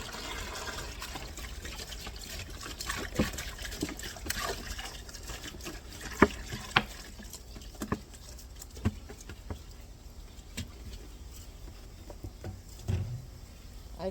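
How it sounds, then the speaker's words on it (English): White distilled vinegar pours from bottles into the side of a blue plastic bin, a steady soft patter and trickle of liquid with a few louder splashes and knocks, close by with no talking. "Two more bottles of white distilled vinegar going into the side of the blue bin."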